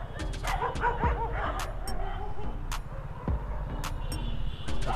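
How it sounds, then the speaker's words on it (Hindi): Several street dogs in Mumbai bark and yip repeatedly nearby in irregular bursts, with some whimpering and passing traffic noise in the background. "यहाँ कुत्तों ने मुझे घेर लिया है।"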